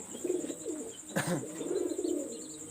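A pair of Teddy pigeons coo softly and briefly at close range, low murmuring calls with a sharp rustle or flap in the middle, and steady background noise throughout.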